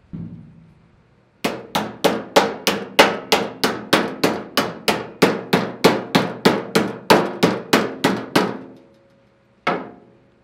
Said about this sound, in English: how I'm swinging this hammer